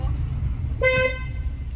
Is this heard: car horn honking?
yes